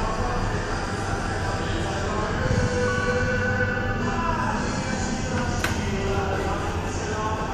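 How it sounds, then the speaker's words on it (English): A Kone machine-room-less traction elevator in a shopping mall service shaft runs with a continuous loud rumbling hum and rattle, faint squeaks and a brief high click partway through. "This is a traction elevator, MRL"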